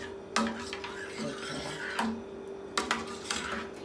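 Payasam made with aval and bottle gourd is stirred in a pot, giving soft rasping scrapes and a few sharper strokes over a steady background hum, close and fairly quiet.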